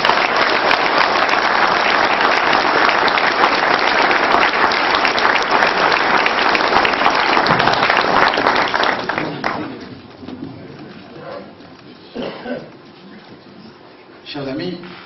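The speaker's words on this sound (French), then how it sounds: "Je vais vous demander de faire une ovation à notre candidat" An audience at a 2012 French legislative campaign rally gives a sustained ovation for a candidate, dense loud applause that fills the room for several seconds before fading, with a voice speaking over the dying claps.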